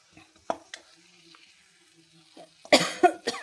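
Masala frying in a pan with a piece of jaggery added, the base for a bitter gourd (kakarakaya) pulusu. Faint clicks in near-quiet give way to loud, close bursts of sizzling and stirring at the end.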